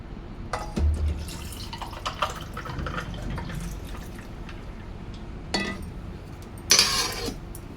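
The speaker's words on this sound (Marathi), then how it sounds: "आता एका ग्लासामध्ये टाकायचे आईस क्यूब, आणि आपली सोलकढी।" Solkadi poured into a glass over ice cubes: a few short splashy pours and clinks, the last and loudest near the end, set against quiet room noise.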